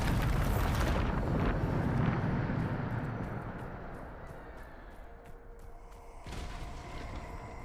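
A Bombarda explosive spell goes off in Hogwarts Legacy, opening with a loud rumbling blast that decays into a long, fading roar, followed by scattered debris clatter and a second rising surge.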